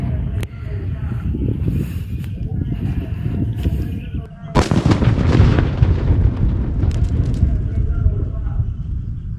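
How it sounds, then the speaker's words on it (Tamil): A large coconut bomb firecracker goes off in a village during Diwali, a sudden loud broadband blast about midway that leaves a lingering rumbling tail, with constant background noise and chatter throughout. "இந்த ஒரு தேங்காய் குண்டுக்கே ஊரே சும்மா அதிர்ந்த அளவுக்கு சவுண்டு கிடச்சி"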